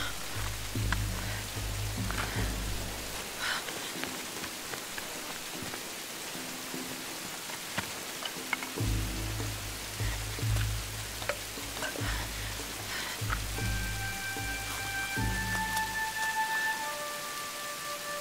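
Rain falling at night in the video game Tomb Raider Definitive Edition, a steady hiss of downpour with patter on surfaces, continuous throughout, mixed with low game rumbles and occasional tonal effects, no talk.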